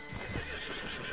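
Horse in the video game Red Dead Redemption 2, clip-clopping hooves and a whinny together over about a second, close and steady with no talk.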